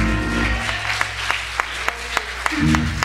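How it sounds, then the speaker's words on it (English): A church congregation clapping hands at a Sunday service, a dense steady patter of many hands with a few sharper individual claps standing out, over a low sustained rumble of organ or music. "Clap your hands, somebody,"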